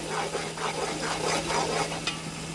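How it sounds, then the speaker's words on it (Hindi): Ginger garlic paste frying in a pan for beef korma, a steady close sizzle with repeated scraping stirs from a spoon throughout, loud and continuous with no talk. "दो मिनट के लिए इसको पकाएंगे ताकि अदरक और लहसुन का पेस्ट जो डाला है"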